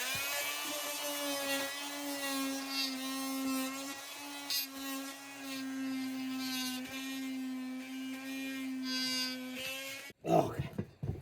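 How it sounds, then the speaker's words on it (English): A vibrating saw cuts through a lawn mower tire with a sustained, steady high-pitched buzzing drone at close range, ending abruptly in a short clatter. "finished it off with the vibrating saw"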